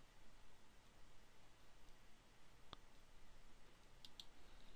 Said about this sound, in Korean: 얘를 마우스 오른쪽 버튼 클릭합니다.